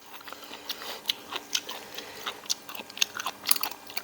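Crispy squid papaya salad eaten with rice noodles, crunched in close, loud, irregular bites and chews that continue steadily, alone without any talking.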